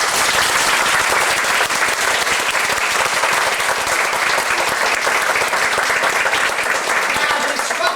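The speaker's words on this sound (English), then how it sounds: "This would be the time to give a round of applause." Continuous dense applause from a crowd of spectators at a karate class, loud and steady for several seconds, with many hands clapping at once and no break.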